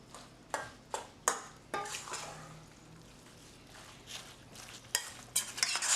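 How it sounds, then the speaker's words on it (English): Eggs and sausage for breakfast burritos being stirred in a pan, with a soft background sizzle and a series of sharp scraping and tapping strokes from the utensil, quiet and close. "Just stir it up. Make sure the eggs and the sausage are as equally distributed as possible."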